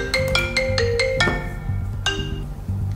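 A phone rings with a repeated electronic melodic tone of quick, evenly spaced beeps while a boy calls his dad, over a low background drone.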